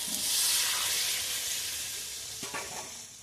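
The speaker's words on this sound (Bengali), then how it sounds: "কষা হয়ে গেছে, পরিমাণ মতো জল দিয়ে দিচ্ছি" Water poured into a sizzling pan of Bhola river fish curry with aubergine and potato, giving a loud hiss that fades over a few seconds, with a couple of faint stirring clatters near the end.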